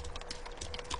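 Quick clip-clopping hoofbeats of a sheep or goat in the survival video game DayZ, a brief faint patter of several steps close by with no voices.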